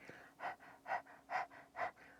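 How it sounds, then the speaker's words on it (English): Four quick, rhythmic breath-of-fire panting breaths, evenly spaced and close, each a sharp breathy puff with softer inhales between. "you could practice it by just panting like a dog"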